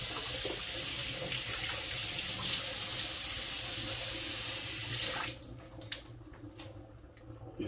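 Water pours steadily from a tap over a fish being rinsed in a sink, a loud continuous splashing rush that cuts off abruptly near the end, leaving faint drips and quiet clinks.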